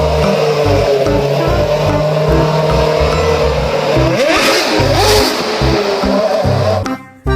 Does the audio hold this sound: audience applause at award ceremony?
no